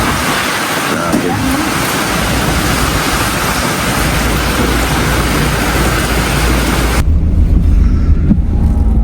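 Typhoon wind and rain outdoors, a loud continuous roaring wash of gusts and rainfall, with a passing vehicle rumble low underneath and no clear talk.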